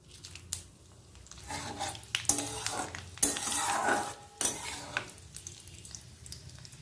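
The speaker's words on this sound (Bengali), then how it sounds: "তেল গরম হয়ে গেছে, ফোড়নে দিয়ে দিলাম অল্প একটু 5 ফোড়ন, দিয়ে দেব দারচিনি, এলাচ আর শুকনো লঙ্কা।" Panch phoron, cinnamon, cardamom and dry chilli drop into hot oil, setting off a faint sizzle with sharp spatters, crackles and clinks of a utensil against the pan.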